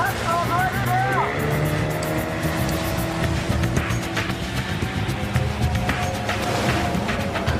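A motorboat engine roars steadily on the water during a police chase on the harbor, a loud continuous drone with a rising whine near the start and spray and rumble throughout.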